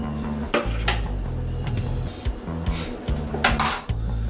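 Fried rice stirred in a pot, with a busy run of metallic scraping and clinks of utensil against cookware, close and fairly loud throughout.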